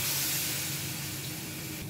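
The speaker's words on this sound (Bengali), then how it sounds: "এই পর্যায়ে আমি জল দিয়ে দিচ্ছি।" Water poured into a hot pan of rohu fish curry cooked with green banana, giving a steady, close hissing sizzle of steam and spray that slowly fades a little over its short span.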